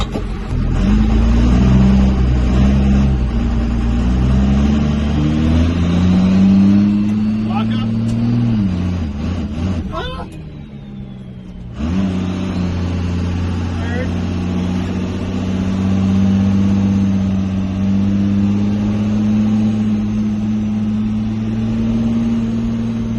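A first-generation pickup truck with a newly fitted torque converter drives in first gear. Its loud, steady low engine drone rises and falls in pitch, dips briefly midway, then picks back up, with voices heard at times.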